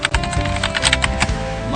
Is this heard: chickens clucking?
no